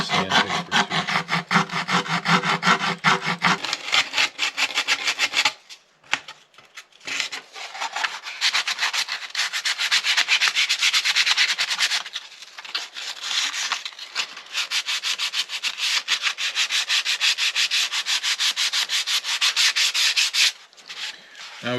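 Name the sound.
sanding wood with sandpaper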